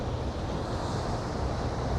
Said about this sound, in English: as the wind picks up, and there was a good strong gust